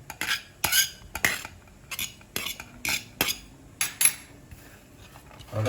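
Egg being mixed with onion and chilli in a bowl, heard as a series of quick, close metallic clinks and taps from a utensil against the bowl at an irregular rhythm.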